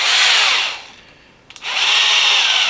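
A cordless drill driver sinks a small screw into a Tamiya BBX model kit: a loud, close whirring burst winds down, a couple of clicks follow, then the motor spins up again steadily.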